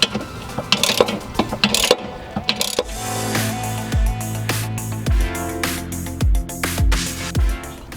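A hand ratchet clicks through fast, rhythmic pawl strokes while backing out Loctite-coated T50 Torx bolts on an Integra rear brake, with a few heavier metallic knocks between the turns, close and clear.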